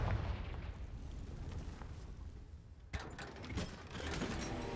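A Confringo blasting spell in Hogwarts Legacy goes off as a sudden booming blast that rumbles briefly, over a constant low game ambience.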